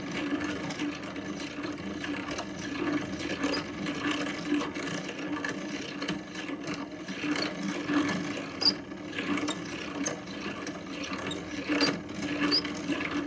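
Yarn winding onto a weaving bobbin driven by a drill or electric bobbin winder, a continuous mechanical whir with faint rattling and rubbing, steady and close for the whole stretch.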